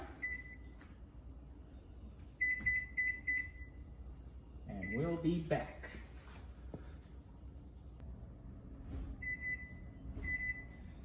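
A kitchen timer beeps in short repeated bursts while proofing crusty bread dough, the beeps coming in several separate groups under and between a person's talking.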